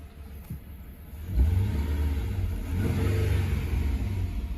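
1998 Chrysler Concorde LXI barn-find car with new spark plugs, its engine idling low then revved twice, each rev swelling into a deep, close rumble before settling back.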